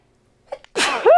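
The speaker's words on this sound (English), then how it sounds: "oh, I'm gonna sneeze." A single close human sneeze, with a short sharp inhale followed by a loud burst, in an otherwise quiet room during a home haircut.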